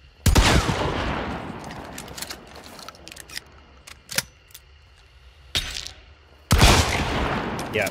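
Romero shotgun in Hunt: Showdown fired at wooden cover to test penetration: three loud, sharp blasts, each trailing into a decaying reverberant tail, separated by short quiet gaps with a few faint clicks and knocks between.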